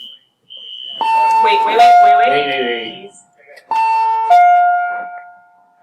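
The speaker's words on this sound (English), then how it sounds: "The fire alarm is a false alarm." A school fire alarm sounds as a false alarm in a classroom, two loud sustained electronic tone bursts, each stepping down in pitch, while students talk over and between them.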